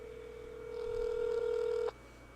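Telephone ringback tone on an outgoing call to a law office in Moscow, Idaho: a single steady electronic tone holding for about a second and a half, fairly clear, then cutting off.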